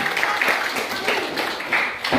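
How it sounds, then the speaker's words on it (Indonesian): Classroom audience applauding student groups after their presentations: a dense, continuous patter of many hands with a voice speaking over it. "tepuk tangan untuk semua kelompok yang sudah"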